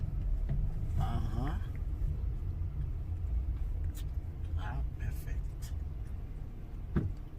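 A manual car is parked: a low, steady engine rumble runs close by throughout, with a few brief knocks and clicks, while a person talks over it.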